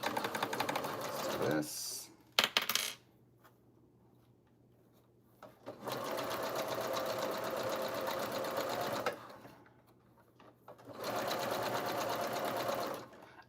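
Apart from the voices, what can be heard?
sewing machine back stitching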